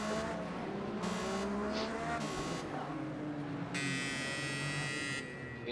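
Indy race cars lapping the Bathurst circuit in a racing video game: a steady, close, high-pitched engine whine throughout, rising and falling with gear changes and overlapping buzzing engine tones from several cars.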